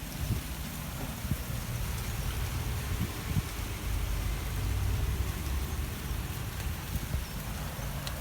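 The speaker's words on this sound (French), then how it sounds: "C'est la pluie." Rain falling outdoors on a wet December morning, a constant broad wash of patter with low rumbling background noise, steady throughout and no talking.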